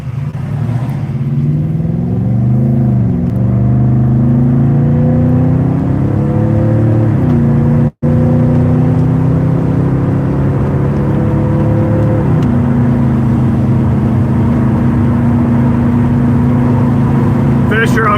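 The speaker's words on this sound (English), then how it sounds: "listen to the exhaust" A car engine revs and rises in pitch through several gear changes, loud and close, with a brief dropout partway through.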